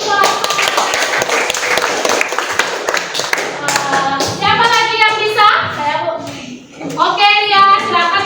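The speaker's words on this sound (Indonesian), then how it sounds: "Kasih tepuk tangan dulu" Children clap together in a primary school classroom, a dense patter of small hands at first, then thinning as young voices start talking and singing over it.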